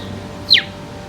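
A person whistles or voices an imitation of a bird chirp: one short, bright downward-sliding chirp, close and clear, over a quiet background.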